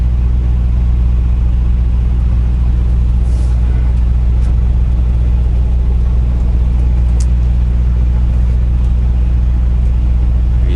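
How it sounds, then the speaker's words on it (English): A garbage truck pulling in makes a loud, continuous low engine rumble that stays steady and close, with faint clanks above it. "Got Mr. Garbage Truck coming in."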